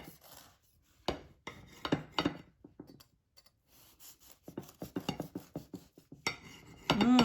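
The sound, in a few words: knife slicing homemade banana bread on platter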